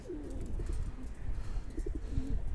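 A pigeon coos softly close by in several short, throaty bursts over a low background hum.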